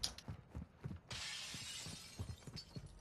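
Glass shatters in Warzone 2, a sustained crash and scatter of shards lasting over a second amid a series of sharp, rhythmic clicks and taps.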